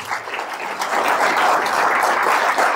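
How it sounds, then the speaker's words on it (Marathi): A crowd at a motivational direct-selling seminar claps together in sustained, dense applause that holds steady and close for nearly three seconds, with no voices breaking through. "इथं जोरात टाळ्या पाहिजे, कारण गीता आहे."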